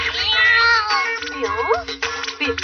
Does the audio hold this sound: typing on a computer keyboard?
no